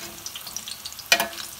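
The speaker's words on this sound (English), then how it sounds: "It's frying very, very good." Eggplant sizzles steadily in hot oil in a pan with soft crackles, and a brief louder scrape or stir cuts through near the end.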